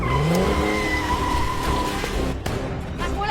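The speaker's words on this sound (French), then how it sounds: "Il vient d'allumer le moteur." A car engine roars and the car pulls away fast, with tire squeal and rising engine pitch over a dense, loud rumble, close by in a suspense film scene.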